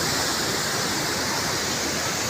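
Roaring canal water rushes through the Qadirabad Barrage on the Chenab river, a loud, steady, unbroken wash of turbulent flow with no pauses and no voices.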